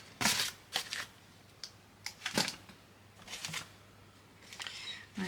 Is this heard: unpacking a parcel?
yes